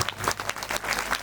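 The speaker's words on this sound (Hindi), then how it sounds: "जोरदार बजाओ ताली।" An audience claps steadily at a Hindu devotional kirtan gathering, a dense, continuous round of applause at moderate distance with no talk over it.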